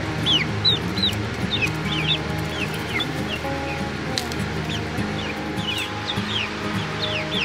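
A group of hens clucks and chirps around a new feeder with mealworms in it, giving a constant busy layer of close, fairly loud chatter with repeated short calls and no talk.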